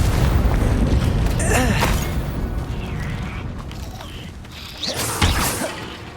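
Explosion spells are cast in the Hogwarts Legacy video game: deep booms and crashing blasts with whooshes amid rumbling battle noise and brief voice sounds.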